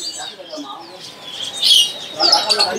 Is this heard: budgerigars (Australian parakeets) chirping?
yes